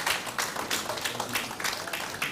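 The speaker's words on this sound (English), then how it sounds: "A wonderful round of applause for the Art in Medicine Orchestra." An audience gives a round of applause for an orchestra at a sickle cell disorder event, with brisk, dense clapping from many hands filling the room at steady volume.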